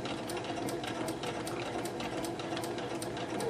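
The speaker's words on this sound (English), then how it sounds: "we're going to stitch on the 1/8 going all the way around that that horsehair braid" A sewing machine running a regular straight stitch, sewing horsehair braid onto the hem of a print skirt, with a continuous quiet motor hum and a fast, steady needle patter that carries on without pause.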